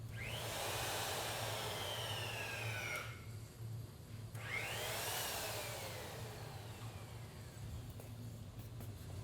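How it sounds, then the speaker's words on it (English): A Collins straight tube roller whirs and grinds while rolling a boiler tube into place, two rising-and-falling motor surges over a steady low hum, moderately close. "So he'll go in with that Collins roll, that straight roll, touch it up"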